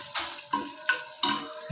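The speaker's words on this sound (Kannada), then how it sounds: "ಸ್ವಲ್ಪ ಬ್ರೌನ್ ಆದ ತನಕ ಇದನ್ನು ಫ್ರೈ ಮಾಡೋದು." Coconut pieces and chopped onion frying in a pan for a Mangalore-style dish, giving a steady close sizzle broken by a few louder bursts as the pieces are stirred, with no talking.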